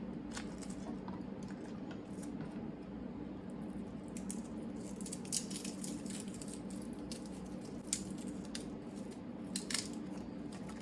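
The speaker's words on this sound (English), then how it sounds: "now I have my garlic cloves here. I'm just peeling the papers off." Papery skins are peeled off garlic cloves by hand, giving faint, close, dry crackling and crinkling with scattered small snaps over a quiet background, with no talking.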